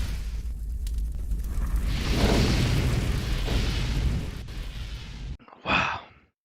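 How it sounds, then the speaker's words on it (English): Baneling explosions in StarCraft II during a match, a dense rolling burst of splashy booms and crackle that swells then cuts out, followed by one short whooshing pop at the end. "Explosions."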